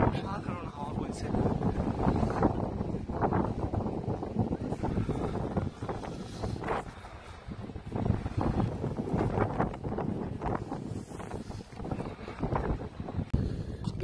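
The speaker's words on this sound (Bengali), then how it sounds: "দারুণ অসাধারণ হাওয়া বইছে।" Strong wind gusts at Ram Jhula bridge over the Ganga, a continuous loud buffeting roar across the microphone, with people talking underneath.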